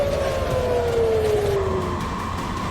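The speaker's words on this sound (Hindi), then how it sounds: "बैलिस्टिक मिसाइलों के खतरे को देख इजराइल में कई जगहों पर सायरन की आवाजें सुनाई देने लगी।" Air raid sirens sound across Israel during an Iranian ballistic missile attack, a steady wailing tone slowly falling in pitch over a constant loud background rumble, with no voices.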